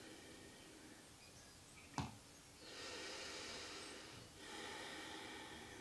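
Faint breathing during a yoga pose: a quick sharp sniff-like inhale, then two long soft airy breaths in a quiet room.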